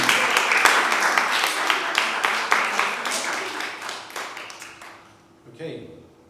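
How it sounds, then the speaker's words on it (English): A poetry slam audience claps in a dense burst of applause that gradually thins and fades out after about five seconds. "And applause to everybody who's not normal."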